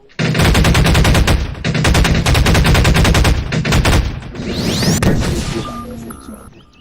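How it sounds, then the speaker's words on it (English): An SMG pulse rifle in Garry's Mod fires rapid, loud automatic bursts, one long string broken by brief pauses, ending in a few scattered clanks and a fading tail. "SMG's cool as well. SMG, it's pulse rifle."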